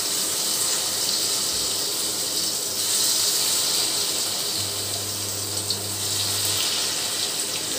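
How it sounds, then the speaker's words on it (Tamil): Spiced broccoli 65 pieces deep fry in hot oil, a loud, continuous bubbling hiss close by that holds steady for several seconds with no talking. "இப்போ நம்ம ஆயிலில் போட்டு ஒவ்வொன்றா போட்டு பொரிச்சு எடுத்துடலாம்."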